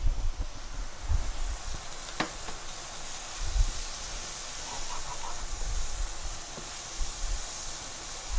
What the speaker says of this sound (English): frying up our masala.